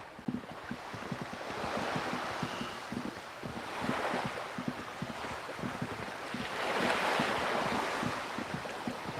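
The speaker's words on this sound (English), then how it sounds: "I like the ocean sound." Ocean surf in the Disco Elysium video game: broad waves swell and recede in slow surges over steady wind, with soft rhythmic ticking underneath and no voices.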